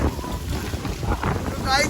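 Loud, gusty wind buffets the microphone in a steady roar, with a faint whistling rise near the end.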